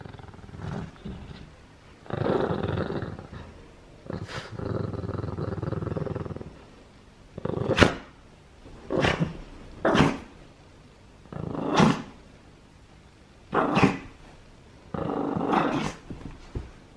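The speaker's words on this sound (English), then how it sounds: "I hope that's not nasty growling." A dog growls and rumbles in repeated bursts while playing with a bunny toy, the low growls coming in short and longer spells close to the listener, with no talking over them.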